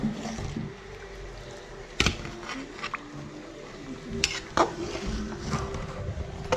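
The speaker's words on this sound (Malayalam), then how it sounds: "സൂപ്പർ എല്ല് കറി ആയിട്ടുണ്ട് കേട്ടോ നമുക്ക് ഇളക്കി കൊടുക്കാം" Bone curry being stirred in a cooker alongside cooked tapioca, a spoon scraping and knocking against the metal pot in several sharp clacks over a soft background simmer, fairly quiet, no talking.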